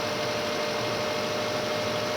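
A damaged car engine idles roughly, its steady broadband rumble and vibration running continuously and close up with no pauses or talking.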